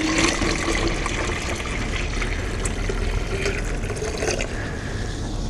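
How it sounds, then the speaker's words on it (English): Hot water pours steadily onto sugar for several seconds with a continuous splashing, filling sound, fairly close and without any voices. "So I'll just pour this in on the sugar."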